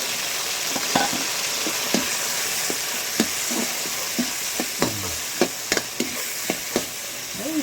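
Tomatoes sizzling in a frying pan with onion and garlic, a constant crackling fry broken by repeated sharp clinks of a utensil stirring against the pan.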